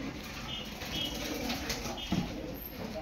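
A male sabja pigeon in a loft, giving soft low cooing murmurs over a steady background hiss, faint and somewhat distant, with a brief louder flutter near the end.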